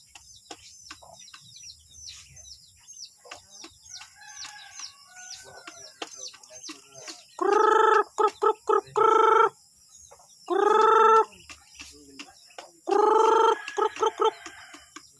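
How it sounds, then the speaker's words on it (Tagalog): Chickens on a farm with ducklings nearby: soft clucks and chirps build into several loud, drawn-out rooster-like crows in bursts, close to the listener. A thin high-pitched tone runs steadily underneath. "Manok."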